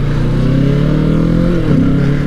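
A 2020 Kawasaki Ninja 650 KRT Edition parallel-twin engine hums loud and close, holding a steady mid-range drone and then climbing in pitch as the throttle opens near the end.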